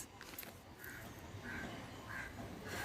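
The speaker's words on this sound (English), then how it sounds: "Those are birds." Birds call in a garden, with a crow-like caw repeating roughly every half second to second at moderate distance over a soft outdoor background.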